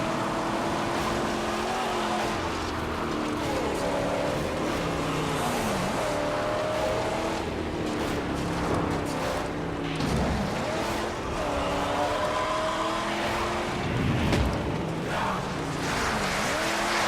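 A car engine in the Mad Max video game runs at full throttle, a loud, continuous roar whose pitch rises and falls with gear changes and turns, holding steady throughout.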